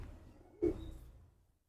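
Faint, short coo from a dark-coloured Firozpuri pigeon in a quiet setting, a single soft call rising over low background rumble and fading out.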